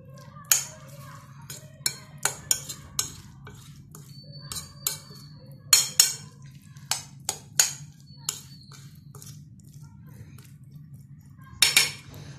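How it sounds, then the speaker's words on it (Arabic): Mayonnaise mixed into chopped vegetables for a salad, with irregular sharp clinks and taps of a utensil against a bowl, scattered over a steady low hum. "باش تخلط مزيان المايونيز مع هاد الخضره"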